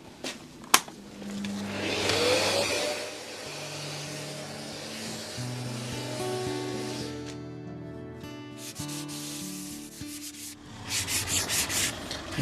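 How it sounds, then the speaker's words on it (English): A power sander whirs steadily against a hardwood stair newel post, its pitch shifting as it moves, with a sharp knock near the start and a rougher grinding burst at the end. "once I've done all of the sanding, this is the last one"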